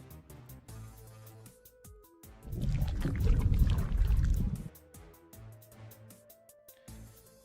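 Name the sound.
belly slosh fluid sound effect from a sound library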